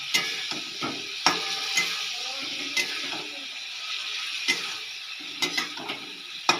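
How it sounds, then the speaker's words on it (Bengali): A spoon scrapes and stirs pointed gourd with mustard spice paste in a pan, giving soft sizzling and intermittent sharp knocks against the metal, fairly close. "এই পটলগুলো দিয়ে দিলাম, দিয়ে সুন্দর করে একটু মাখাতে হবে মশলার সঙ্গে।"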